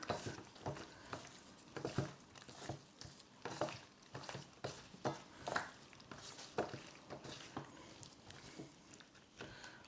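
Chicken pieces being mixed with lemon in a bowl, giving faint, soft wet squelches and irregular light taps, close by and quiet with no talking.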